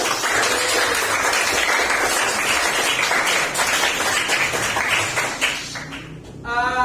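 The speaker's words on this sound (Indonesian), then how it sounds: "Jadi tepuk tangan untuk kita semua ya." A classroom of students applauding their presenting groups, steady dense clapping held for several seconds before tapering off as a voice begins.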